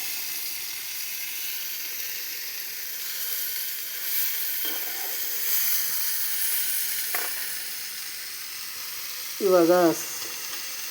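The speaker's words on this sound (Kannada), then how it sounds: "ಇದಾದಮೇಲೆ ಸ್ವಲ್ಪ ಚೆನ್ನಾಗಿ ಫ್ರೈ ಮಾಡಿ. ಇದು ಚೆನ್ನಾಗಿ ಸ್ವಲ್ಪ ರೋಸ್ಟ್ ಆಗಬೇಕು ಎಣ್ಣೆಯಲ್ಲಿ." Soybeans frying in oil for a soybean masala fry, making a steady, close sizzling hiss throughout, with a brief spoken word near the end.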